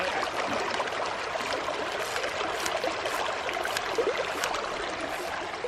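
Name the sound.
pumping water through a backpacking water filter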